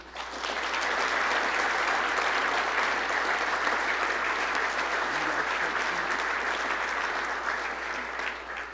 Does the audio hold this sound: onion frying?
no